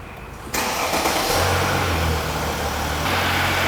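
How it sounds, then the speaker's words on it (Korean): A car with a weak, low-capacity battery cranks and catches after a brief quiet moment, then settles into a steady, loud idle close by, with no talking. "시동을 걸어보도록 하겠습니다."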